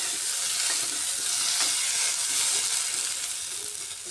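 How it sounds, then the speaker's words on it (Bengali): Salted, turmeric-rubbed pointed gourd (potol) fries in oil over a medium gas flame, giving a loud, continuous, close-up hiss and crackle throughout. "এবার পটলটাকে একটু লাল লাল করে ভেজে নিচ্ছি।"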